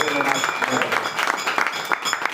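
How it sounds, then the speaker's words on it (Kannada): An audience claps for the committee at a live folk singing event, a burst of brisk applause that stays dense and fairly close throughout. "ದಯವಿಟ್ಟು ಒಂದು ಸಾರಿ ಕಮಿಟಿ ಅವ್ರಿಗೆ ಜೋರಾದ ಚಪ್ಪಾಳೆ ಹೊಟ್ಟು ತಪ್ಪಲ್ಲಿ"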